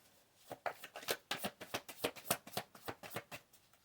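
Tarot cards are shuffled in quick riffling bursts, a dense run of crisp, papery flicks and snaps at an uneven rhythm, close and fairly quiet, with no talk.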